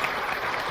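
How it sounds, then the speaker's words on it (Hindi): Audience applause at a comedy show, a brief, faint wash of steady clapping from a crowd. "चलिए एक बार आप मिलकर तालियां बजा दीजिए"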